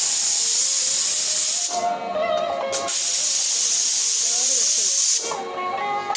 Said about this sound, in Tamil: இங்க பாரு, தேர்ட் விசில்.